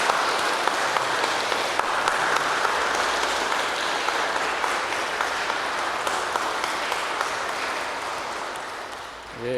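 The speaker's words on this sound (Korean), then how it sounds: "오늘 우리 그동안 수고하신 우리 송병호 목사님을 위해서 박수로 우리" A church congregation applauds after a visiting pastor's sermon at a revival meeting, a dense, steady wash of clapping that holds for nearly ten seconds before tailing off, with no one talking over it.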